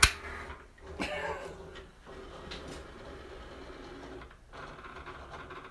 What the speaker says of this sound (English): I don't know if my Cricut's supposed to make that noise, but it does.